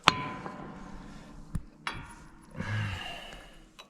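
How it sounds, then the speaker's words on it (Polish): Impact socket hammered onto a wrench while working on a farm sprayer's tank, a few sharp metallic clangs spaced apart over a low background hum, close by and with no voices. "młotkiem wbijemy"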